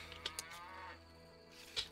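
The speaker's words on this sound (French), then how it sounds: "La vache est toujours là." A cow in The Witcher video game moos, a drawn-out bovine low running through most of the two seconds over steady in-game background sound.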